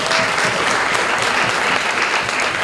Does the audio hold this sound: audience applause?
yes